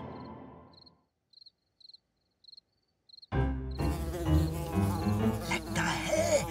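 Mosquitoes whine in short, repeated buzzing bursts against near silence in a Hindi children's cartoon, then a sudden loud burst of music and effects takes over and buries them.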